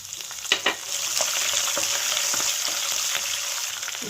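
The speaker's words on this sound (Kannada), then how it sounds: "ಉದ್ದಿನಬೇಳೆ ಕಡಲೆಬೇಳೆ ಅದನ್ನು ಚೆನ್ನಾಗಿ ಫ್ರೈ ಮಾಡ್ಕೊಳ್ಳೋಣ" Urad dal and chana dal frying in oil in a pan for vangi bath, a close, even sizzle with a few soft knocks near the start, no speech.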